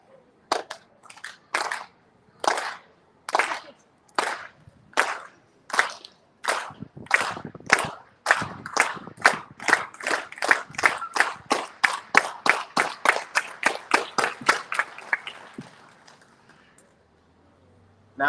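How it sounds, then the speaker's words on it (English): A rally crowd claps in unison on count, with sharp single claps that start slow and evenly spaced, then speed up steadily into a rapid run before stopping suddenly. "we're going to clap on my count, and we're not going to stop until I touch the mic"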